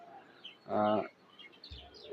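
A pigeon, a high-flyer cross, held in the hand gives a short, faint, throaty coo, a single brief call with quiet background noise around it.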